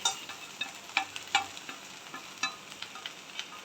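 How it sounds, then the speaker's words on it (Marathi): Okra frying in oil with onion crackles softly, with a run of light scraping clicks as it is stirred around the pan. "आणि आता भेंडी मिक्स करून घेऊया थोडीशी तेलामध्ये"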